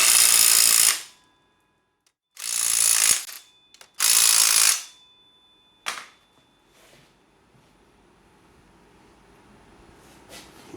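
Ratchet wrench snugging the axle bearing lock nuts on a Yamaha Banshee ATV, three loud bursts of rapid clicking a couple of seconds apart followed by a short tap, then near quiet.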